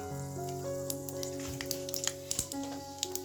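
Spices crackle and sizzle in hot oil for a fish fry, a steady close frying hiss with a few small pops over a sustained background hum, and no voices.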